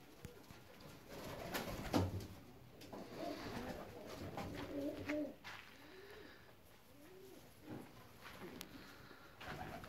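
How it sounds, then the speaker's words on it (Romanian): Fancy pigeons, including Indian fantail breeding pairs, coo in soft repeated low phrases, fairly close, with rustling and other faint bird sounds around them. "O să încercăm să ne apropiem cât mai mult de porumbei"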